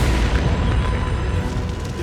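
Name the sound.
fuel vapor explosion ignited by a generator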